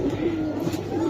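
Giribaz pigeons coo in a soft, steady run of low rolling calls, close and continuous, no one speaking over them.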